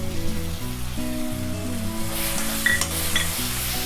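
Ginger garlic paste and turmeric sautéing in a pan for chicken chukka give a bright sizzle that swells in the second half, partly under steady background music.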